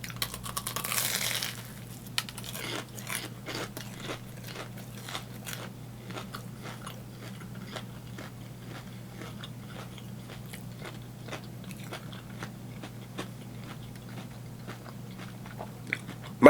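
Crunchy bites into a panko-topped Mochinut mochi donut, a steady run of sharp, close crackling crunches with chewing through most of the clip, no talk.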